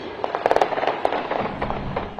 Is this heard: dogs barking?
no